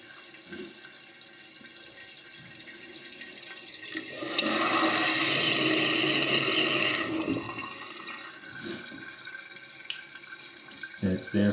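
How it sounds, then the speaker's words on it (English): A toilet fill valve runs water into the tank to refill it, a loud rushing hiss that swells in for about three seconds and then tapers off, with quieter bathroom sounds and some talk before and after. "this valve will come on in a minute to bring the water up where it needs to be"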